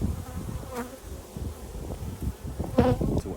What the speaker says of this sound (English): And that's a worker bee.